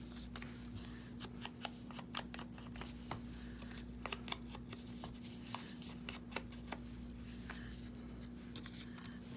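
Paper torn by hand into pieces for handmade tags cut from neutral masterboards and vintage advertisements, heard as quiet, crisp tearing bursts scattered at an uneven pace over a steady low hum, with no talk.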